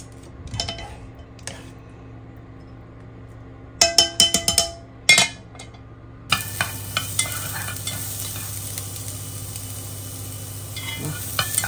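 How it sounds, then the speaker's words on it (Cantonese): Onions are stir-fried in a wok, metal spatula clanks and scrapes ringing out in short bursts before a loud steady sizzle takes over as the onions hit the hot oil, with no speech. "爆香啲洋葱先嚇。"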